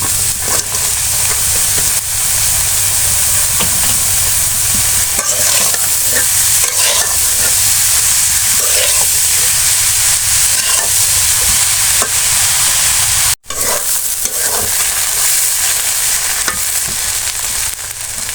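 Bottle gourd stir-fries in a hot pan of oil, a loud, steady sizzle and hiss that runs throughout, with a spatula scraping and stirring now and then and one very brief break.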